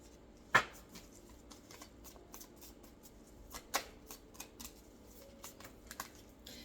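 Tarot cards handled, shuffled and drawn, soft close clicks and flicks with a couple of sharper snaps, quiet and intermittent.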